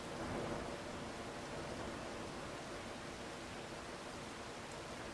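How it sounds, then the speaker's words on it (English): Steady rain in the video game Farming Simulator 25, a dense, even hiss of downpour that holds constant throughout with no breaks or voices. "Look at that rain, eh?"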